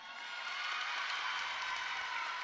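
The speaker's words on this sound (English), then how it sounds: "Coaches are clapping" Steady applause at a women's college gymnastics meet between A&T Quinnipiac and Davis & Elkins, a broad even patter of clapping from coaches and teammates that holds for a few seconds without any voices.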